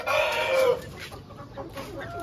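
A hen in a pet house clucks loudly and close at first, followed by fainter scattered clucks and bird sounds over a quiet background.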